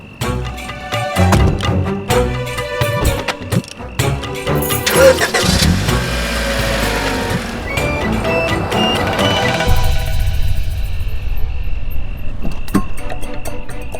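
A car engine cranks and catches after repair, then runs steadily at close range, its rough mid-range drone filling the whole stretch and settling into a continuous idle-like rumble.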